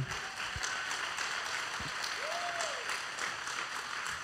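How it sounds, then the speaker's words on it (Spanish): Congregation applause during a church sermon: a faint, diffuse, steady wash of clapping from a distance, with a brief whistle-like tone rising and falling midway and a few low thumps. "¿Cuánto le dan un aplauso al rey?"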